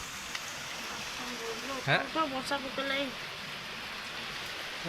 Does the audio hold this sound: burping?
no